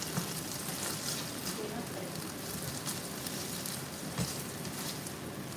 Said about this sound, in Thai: เดี๋ยวเอาสองชิ้นนี้ผัด สักนิดนึง ให้สองชิ้นนี้สุกนิดนึงก่อนนะคะ